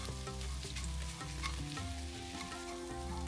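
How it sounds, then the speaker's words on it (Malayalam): Panko bread crumbs toast in melted butter in a pan while being stirred, producing a soft, steady sizzle with light scraping under background music. "ഗോൾഡൻ ബ്രൗൺ ആകുന്നിടം വരെ ഇളക്കിക്കൊണ്ടിരിക്കണം."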